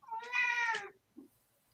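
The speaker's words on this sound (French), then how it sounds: "j'aime bien quand il y a un chat qui vient par là" A cat lets out a single drawn-out meow close by, followed by a brief faint murmur in a quiet room.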